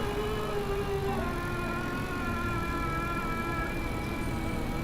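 Mid-drive motor on a Letrigo Minivan cargo e-bike under load in top gear, a faint steady whine with rising tonal sweeps over continuous road and wind rumble, no talking.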